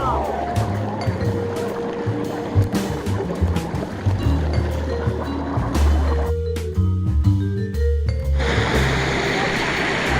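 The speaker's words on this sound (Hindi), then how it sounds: "यहाँ पर पानी का मसाज है।" Water massage jets pour and splash at Tang Mountain hot spring in Nanjing, a constant rushing gush with bubbling, loud and close, under a voice and background chatter.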